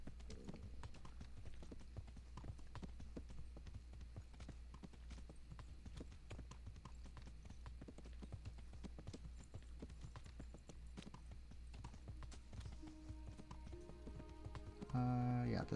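Horse hooves clip-clop steadily through a ride in Kingdom Come: Deliverance, a continuous rhythmic patter over a low game ambience, with a voice briefly entering near the end.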